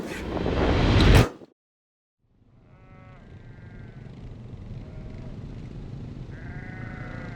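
After a loud burst of noise and a brief silence, sheep bleat several times at a distance over a steady outdoor rumble, recorded during a film shoot.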